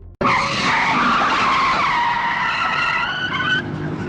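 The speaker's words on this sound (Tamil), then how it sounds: "பெரிய சத்தத்துடன் அவர்கள் செல்லும் கார் தடுமாறுகிறது" A car skids loudly on the road, a long harsh tire squeal starting abruptly, holding strong for over three seconds and then easing off, close and alone with no talk.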